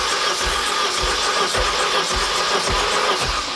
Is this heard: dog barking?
no